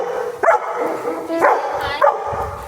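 Labradors bark at a dog boarding kennel, three loud, close barks spaced about a second apart, with some whimpering and faint voices underneath.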